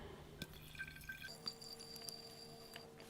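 Water trickles and drips into a glass laboratory flask already holding liquid soap, with faint glassy clinks and a thin, quiet pouring sound.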